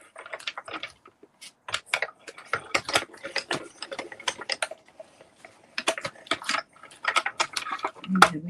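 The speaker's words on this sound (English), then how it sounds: "I do love my little mini cut and emboss machine." A small mini cut and emboss machine being cranked by hand, giving irregular bursts of clicking, ratcheting gear noise at close range, with pauses between runs and a heavier thump near the end.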